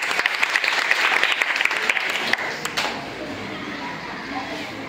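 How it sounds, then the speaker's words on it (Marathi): Students at a school quiz contest clap for a classmate in a lively burst of applause that lasts a couple of seconds, then fades into a quieter room murmur. "सत्यजित साठी सगळ्यांनी टाळ्या वाजवा."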